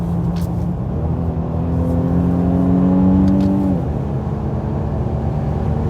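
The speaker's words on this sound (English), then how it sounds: "Next was my muffler delete, which you guys already know what that sounds like." An Infiniti Q50 with a muffler delete revs up and holds a droning exhaust note for a few seconds before dropping back to idle, fairly close and alone.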